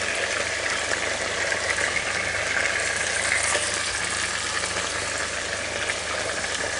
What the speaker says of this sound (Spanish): Una vez que hayamos sofrito esto